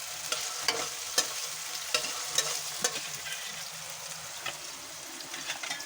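Tomatoes hiss and sputter in a hot pan, a steady frying sizzle punctuated by regular spatula taps and stirring knocks, close by and without speech.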